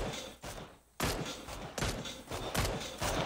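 Rapid bursts of gunfire in the PUBG video game, a loud string of shots broken by a brief pause, then heavy repeated firing continuing to the end.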